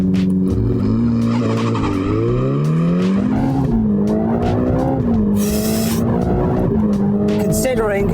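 A Mansory-tuned Ferrari Roma skids on a greasy, icy-slick track during a launch, its tires squealing in long wavering tones over a loud revving engine, close up, with a voice speaking over it.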